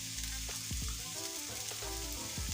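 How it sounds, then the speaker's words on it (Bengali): Chopped onion and green chili frying in a pan for a beef mince kachori filling, a dense continuous sizzle with a few low scraping stirs, close and even, no talking. "আর দিয়ে দেবো পেঁয়াজ কুচি আর কাঁচামরিচ কুচি।"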